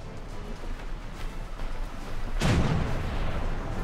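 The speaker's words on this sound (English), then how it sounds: "Going with a half kilometer shot here." Naval ship guns firing in War Thunder during an April Fools 2016 ships battle, a loud booming blast about two and a half seconds in that rolls into a sustained rumble over ongoing battle noise.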